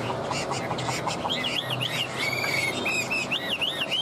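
Hwamei, the Chinese melodious laughingthrush, a yellow-legged, yellow-billed tam hoàng bird, sings in repeated looping whistled phrases over steady background hiss and insect-like noise.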